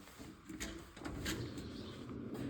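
A metal drawer on a garage shop tool chest slides open or shut with a rolling rumble and a couple of faint clunks, close by and moderately loud, with no talking.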